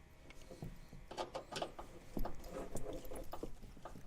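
Phillips head screws and side plates come off a Kawasaki Mule, a close, quiet run of small metallic clicks, taps and rattles at an irregular pace.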